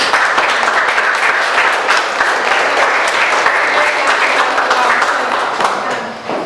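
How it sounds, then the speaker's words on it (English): An audience at an art show in Oxnard College's gallery gives the artists a round of applause: loud, sustained, close clapping that keeps up throughout and eases slightly at the very end. "let's give them both a round of applause"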